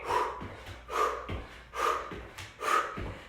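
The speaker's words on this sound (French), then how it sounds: "Expire à pousser." Forceful exhales during a prenatal cardio-strength workout: four strong, close breathy puffs come at a steady rhythm, roughly one per second, with no speech.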